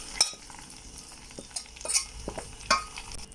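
Onions, dry chilies and cinnamon sticks fry in a pan, a steady soft sizzle broken by a few sharp scrapes and clinks of stirring, heard up close.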